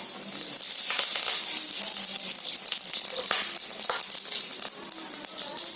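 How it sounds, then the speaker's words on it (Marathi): Whole spices and cracked green cardamom fry in hot oil in a kadai for a Konkani mutton curry, giving a steady, close, bright sizzle with small crackles and pops throughout and no talking. "आता मी कढई ठेवली आहे, कढईमध्ये तेल टाकलंय. आता तेलामध्ये आहे ना हे सर्व खडे मसाले टाकायचे आहेत."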